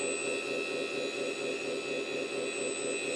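A 1/14 scale RC 8x8 hydraulic dump truck raising its bed: a steady, close, high-pitched whine of the hydraulic pump with a hissing edge, constant and unbroken throughout, with no talking.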